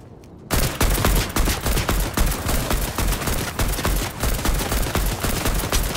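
Gunfire in the video game Fortnite: a dense, loud barrage of rapid automatic shots and impacts running continuously after a short quiet start, close and unbroken.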